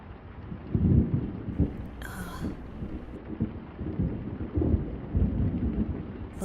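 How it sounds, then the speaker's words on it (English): Steady rain falls through a thunderstorm as deep rumbles of thunder roll in repeated low waves, with a brief, brighter crackle breaking in partway through. "Looks like the storm is getting worse."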